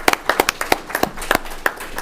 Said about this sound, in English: if we could give you a round of applause